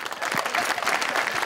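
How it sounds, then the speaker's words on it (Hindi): Studio audience applause in a live Pakistani TV entertainment show, a dense burst of clapping filling the whole moment at steady loudness with no speech over it. "तालियां।"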